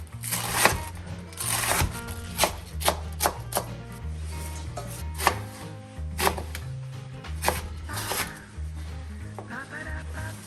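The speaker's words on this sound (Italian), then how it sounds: "la verza andiamo a togliere il nocciuolo, diciamo il cuore, e andiamo a tritarla" A knife chops cabbage repeatedly against a board in uneven bursts of sharp cuts, with steady background music underneath.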